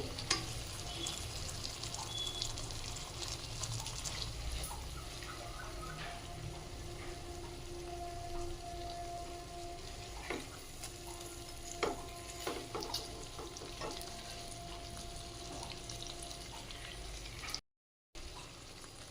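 Chicken pieces frying in a pan with salt added, a continuous soft sizzle with occasional stirring scrapes and clinks, moderately faint, with no talking, then a brief cutout near the end.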